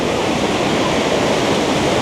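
Waterfall in Switzerland throwing heavy spray, heard as a loud, steady broadband roar of rushing water with no breaks, very close by and with no voices over it.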